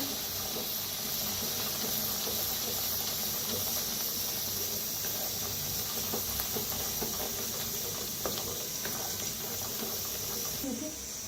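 Ground chicken masala paste roasts in hot oil, giving a continuous bright hiss and steamy sizzle with faint crackles, steady and close, with no speech over it.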